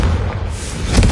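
Confringo blasting spell from Hogwarts Legacy going off as a short, loud, rumbling boom that fills the brief moment without any talk.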